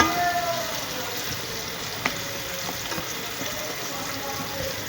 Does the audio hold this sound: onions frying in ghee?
yes